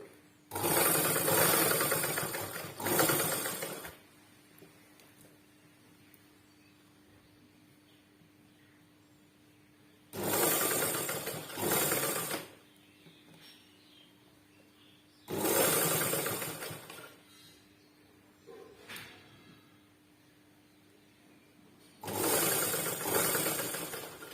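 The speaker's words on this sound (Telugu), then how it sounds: "ఇలా మొత్తం హ్యాండ్ అంతా కుట్టించుకోవాలి" A sewing machine stitches a sleeve onto a ready-made dress in four loud, sustained mechanical runs, each a few seconds long, separated by quiet pauses while the fabric is adjusted by hand.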